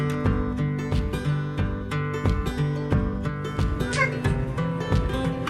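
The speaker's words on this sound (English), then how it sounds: "trying to keep the cats out of everything" Domestic cats meowing inside a converted bus during a sewing project, the calls sounding close over a steady rhythmic thumping background, with no talk.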